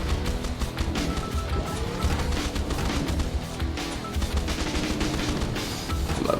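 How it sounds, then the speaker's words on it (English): Dense, continuous barrage of ricocheting explosions and rapid gunfire-like blasts from a mech shooter roguelike video game, loud and unbroken throughout with no talk. "Ricochet explosions, man, that's awesome."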